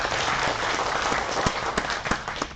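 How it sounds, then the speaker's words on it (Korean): Steady applause fills a general assembly hall of a Gwacheon apartment complex reconstruction association, a dense wash of many hands clapping throughout, with a few sharper claps standing out near the end. "큰 박수로 격려해 주시면 대단히 고맙겠습니다."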